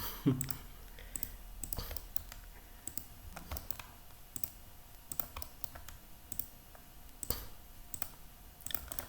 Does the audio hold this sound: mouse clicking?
yes